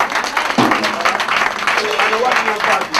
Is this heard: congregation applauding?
yes